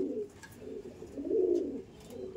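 Andhra pigeons coo softly in low, rolling murmurs from close by, a few overlapping calls spread across a couple of seconds over faint background noise.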